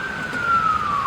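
An ambulance siren passes in the background during a thunderstorm, its steady wail sliding gradually lower in pitch as it moves by at moderate, even loudness.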